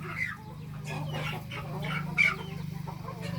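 Several Burmese fighting chickens cluck close by in a steady run of short, throaty calls, with one brief sharper squawk.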